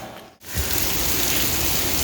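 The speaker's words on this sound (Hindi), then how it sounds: "तो कितनी तेज़ बारिश है।" Heavy rain pours down in a dense, continuous hiss after a brief dip at the start, loud and close.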